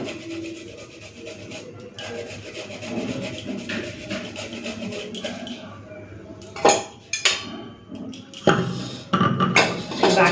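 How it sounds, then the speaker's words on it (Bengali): A knob of ginger is rubbed against a metal grater in a home kitchen, making a soft, continuous rasping followed by several sharper scraping strokes and utensil clinks near the end. "আদা নিয়েছি ঘষে দিয়ে এরকম করে"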